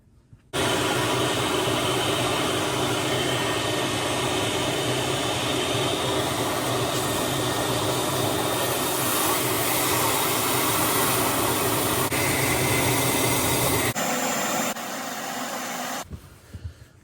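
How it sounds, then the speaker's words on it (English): Loud steady roar of a vacuum sucking water out of a Kenmore dishwasher's drain hose, running continuously for about thirteen seconds, then shifting in tone before cutting off. "once you vacuum all the water out"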